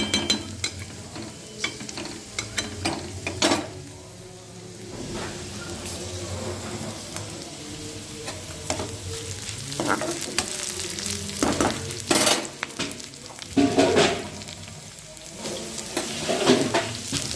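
Pointed gourd peels fry in oil in a pan with a continuous sizzle. Repeated scraping and clattering strokes of a stirring spatula are heard throughout.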